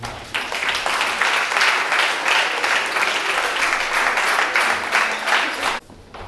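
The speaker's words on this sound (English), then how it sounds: "So let's have a round of applause for Caroline." Audience applause at an award ceremony marking 51 years of the Urban League: loud, dense, sustained clapping from a large crowd that fills the room, then cuts off abruptly near the end.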